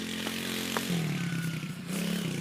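A small motorbike engine idles and runs with a low steady hum that shifts pitch slightly as someone rides, close by, with a few brief knocks and clatters over it.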